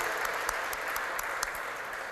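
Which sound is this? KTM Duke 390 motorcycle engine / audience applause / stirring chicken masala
audience applause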